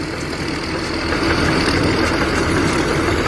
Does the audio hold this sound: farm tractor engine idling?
yes